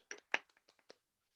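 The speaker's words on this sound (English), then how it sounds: "Everybody give Dominic a round of applause." A small, sparse round of applause: a few separate hand claps, quiet and scattered, fading out within about a second.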